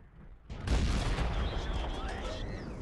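A single heavy tank cannon blast from the T57 Heavy in a video game booms after a brief quiet moment, then its rumble lingers and slowly fades.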